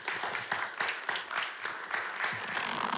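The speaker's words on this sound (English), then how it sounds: "just give them a round of applause" Audience applause at a Little Rock city Board of Directors meeting, a modest group clapping in a fairly sparse, rhythmic pattern, heard faint and somewhat distant in a room.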